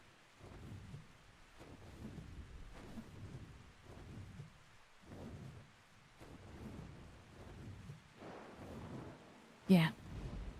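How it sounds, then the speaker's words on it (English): Thunderstorm in the game ARK: Survival Ascended, with rumbling thunder rolls repeating every second or so under steady rain, building to a sharp, loud crack near the end. "It looks so cool with the storm."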